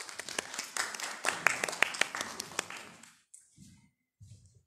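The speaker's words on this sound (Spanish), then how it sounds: "Entonces lo despedimos con un aplauso." A small audience claps at a university biology symposium, with distinct individual claps close by that thin out and stop after about three seconds, followed by brief faint rustling.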